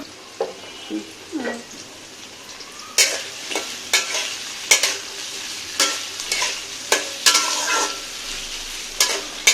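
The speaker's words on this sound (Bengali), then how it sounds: "সাথে বাকি সবজিগুলো দিয়ে এবং সসেস আর যে চিকেন যা ছিল সব দিয়ে ভেজে নিলাম ভালো করে" Vegetables, sausage and chicken stir-frying for chowmein, with a constant sizzle broken by repeated sharp scrapes and clanks of a spatula against the pan at an irregular rhythm, close and fairly loud.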